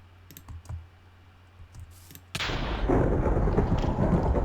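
A summoned lightning bolt in a video game strikes with a sudden loud thunder crack, then a sustained rumbling roar, preceded by a few soft clicks.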